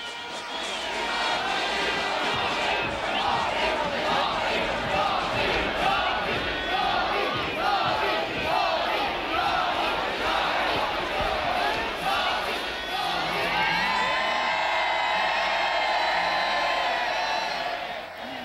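A large crowd of marching communist youth at a parade in 1989 shouting a rhythmic chant in unison, loud and sustained, with voices swelling and overlapping throughout.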